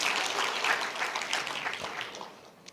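A church congregation bursts into applause, a broad, even patter of many hands clapping that gradually fades over a few seconds, with a sharper clap or two near the close.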